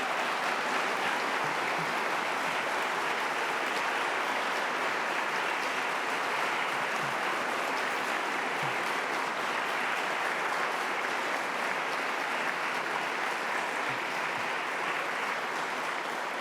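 An audience at a university graduation ceremony in Greenwich applauds in a large hall, producing a long, continuous, dense roar of clapping that stays level and loud the whole time.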